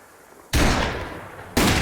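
A gunshot fires in a Far West hunting video game, followed by a second shot about a second later. Both are loud, sharp blasts with a reverberant tail.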